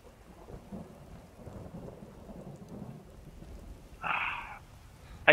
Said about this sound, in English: I keep mistaking the sound of thunder